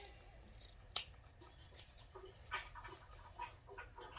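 Scissors trim the fabric sides of a pot holder, one sharp close snip followed by several softer, quieter cuts spaced unevenly over faint background noise.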